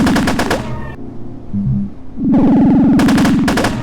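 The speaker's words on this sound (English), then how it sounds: "this ray gun, and it's, like, shooting like an M4, M14 or something" A video game ray gun fires in rapid automatic bursts like an assault rifle, loud and close, with a short pause and a few softer electronic blips before the rattling volley resumes.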